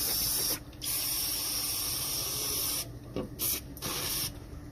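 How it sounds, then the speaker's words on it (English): Cleaner is sprayed from an aerosol can onto a vehicle's engine timing belt area in long, loud hissing bursts broken by short pauses, close and with no talking. "I'm going to spray this down a couple more times and we'll get that off"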